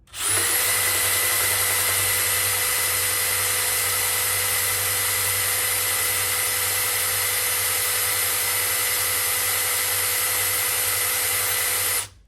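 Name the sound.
drill spinning engine oil pump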